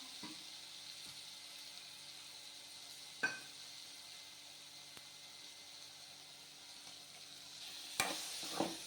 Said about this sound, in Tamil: எண்ணெய் பிரியிற வரையிலும் வதக்கணும்